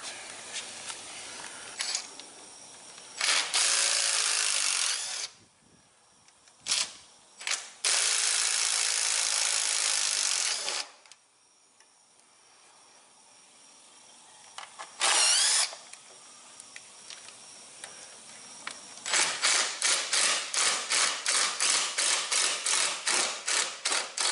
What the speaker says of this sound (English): now we're going to remove all of the screws that hold the blower shroud on